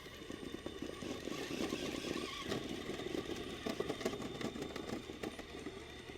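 Off-road vehicle engine revving under throttle while climbing a tricky slope, a continuous rough rumble with fluctuating revs, moderately faint and without talk.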